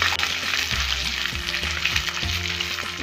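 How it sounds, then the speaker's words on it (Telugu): Ten dried red chillies frying in hot oil with cumin seeds for a Telugu tindora ullikaram spice powder, a steady close sizzle with light crackles and a few stirring scrapes throughout. "10 ఎండుమిరపకాయలు వేసి వేయించుకోవాలి"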